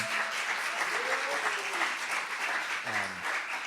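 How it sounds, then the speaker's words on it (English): An audience claps steadily throughout, a dense wash of applause with a few faint cheers or voices in the background. "can we just give a round of applause for Dominic and Campbell and Emily"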